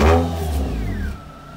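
A Ford Fiesta ST150 with a new straight-through centre-section exhaust revs loudly with a deep, throaty exhaust roar, then drops off as the pitch falls back toward idle.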